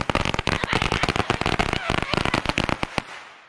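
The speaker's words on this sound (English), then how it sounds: "That's just a Chinese firecracker." Chinese firecrackers going off in a rapid string of sharp, loud cracks and pops outdoors on New Year's Eve in Jacksonville, the bursts crowding together for about three seconds before ending abruptly.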